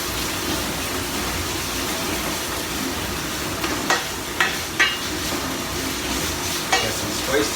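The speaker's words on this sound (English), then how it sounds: "While this is sauteing" Onions and a chipotle pepper in adobo sauce sauté in a pan, giving a steady, close sizzle. A few sharp clatters of stirring break in toward the end; no one speaks.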